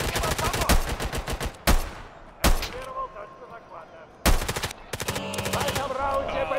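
Teammate's automatic gunfire in an online first-person shooter game, rapid bursts of close, loud shots with brief pauses between volleys.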